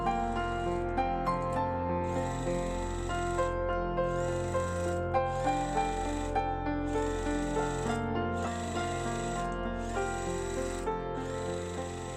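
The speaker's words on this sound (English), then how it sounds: "So I'm going to sew my square, my smaller square to the corner and then flip." Sewing machine stitching small fabric squares onto the corners of a quilt block, a rhythmic mechanical hum with regular repeating whirring pulses, close and steady, no talking.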